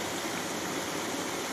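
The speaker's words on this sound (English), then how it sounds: "The sound of wind traveling through the trees, and the light swish of water puts me at ease." Steady, broadband rush of river water flowing at a bend, mixed with wind through trees, continuous and fairly loud with no breaks or voices.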